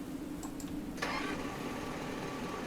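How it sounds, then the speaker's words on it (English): A game car engine in a desert driving game starts up: a brief crank and catch, then settles straight into a steady mid-pitched idle hum, moderately loud with no one talking. "And as we start the engine"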